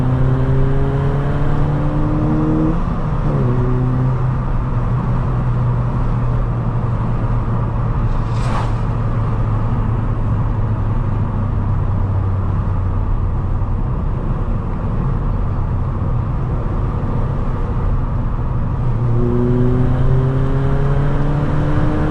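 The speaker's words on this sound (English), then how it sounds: "do love the noise of the 2 litre naturally aspirated engine" A MK6 car with a 2-litre naturally aspirated engine drives a mountain pass, its steady engine drone loud and close, with a gear change and rising revs near the start and again near the end.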